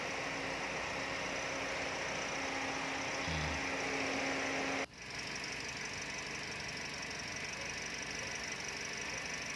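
A Toyota Vios engine idles steadily during a coolant flush, a continuous mechanical hum and knock with a brief clunk midway and no talk.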